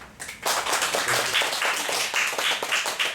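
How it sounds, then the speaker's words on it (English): A lecture audience breaks into applause to welcome a visiting professor, dense clapping rising quickly and sustained at an even, fairly loud level throughout. "welcome Professor Robertson with a big applause"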